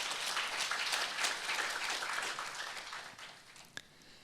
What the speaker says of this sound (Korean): 마지막 연사께 박수로 환영하죠